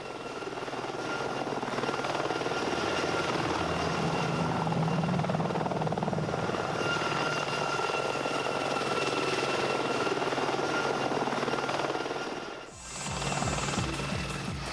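An AH-64 Apache attack helicopter in flight gives a loud, steady rotor and turbine drone that holds throughout, dipping briefly near the end before returning; no one speaks.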